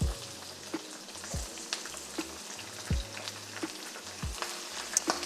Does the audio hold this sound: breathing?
no